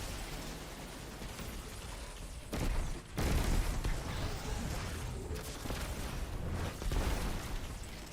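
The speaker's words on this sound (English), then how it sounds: "Did I slide into the explosions?" Rapid bursts of gunfire and explosions in the Destiny video game, a dense continuous barrage with sharp louder blasts near the middle and toward the end.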